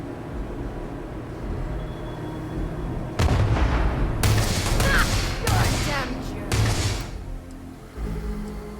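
A grenade explodes in the Starfield video game: several sharp, loud bursts of blasts and gunfire crackle over a low rumbling background, with a short lull between them.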